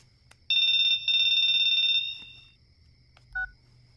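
A telephone rings loudly in two close electronic bursts, followed by a brief softer chirp, in an otherwise quiet room.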